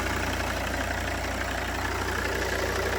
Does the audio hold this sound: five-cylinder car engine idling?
yes